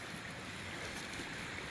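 Steady rushing of creek water along a mountain bike trail in Eagle, Colorado, a soft, even wash of flowing water with nothing else standing out.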